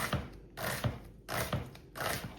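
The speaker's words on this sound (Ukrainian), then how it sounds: "І цибульку нарізаємо дрібненько." A knife finely dices onion on a board during pumpkin cream soup prep, giving a few soft, close bursts of cutting at a steady rhythm with quiet pauses between.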